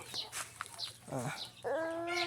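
Chickens on a Burmese chicken farm in Thailand clucking and calling in short, close bursts, with a louder sustained squawk near the end.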